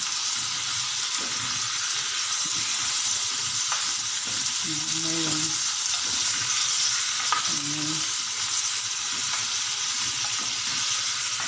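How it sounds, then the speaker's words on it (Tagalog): Upo (bottle gourd) and chicken cooking in a pan, a loud, continuous sizzling hiss with occasional scraping stir strokes, close up and without a break. "So guys, haluin ng haluin"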